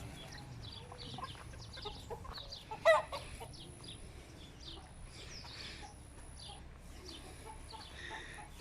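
Hens and roosters at a village farm near a pond give a scattered chorus of clucks, with one sharper, louder call near the middle against a steady low background hum.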